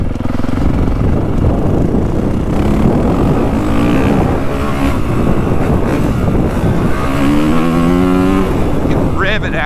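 Honda CRF450 dirt bike engine revving hard while riding on slippery ground, a loud continuous roar whose pitch climbs and falls through the whole stretch, with a voice talking over the engine.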